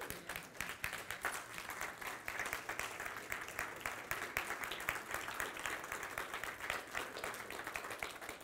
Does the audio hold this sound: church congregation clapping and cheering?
yes